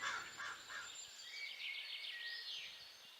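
Cartoon crows caw over a crop field, with several rough, scratchy calls repeating faintly and alone against a quiet background.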